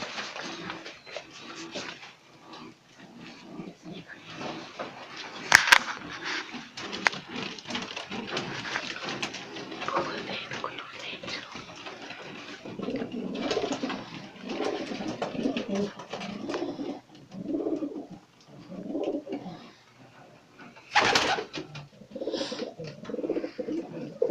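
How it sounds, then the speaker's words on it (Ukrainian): Pigeons of various breeds cooing softly in low repeated murmurs, with occasional wing flaps and rustling nearby. "Ось отут ось голуби."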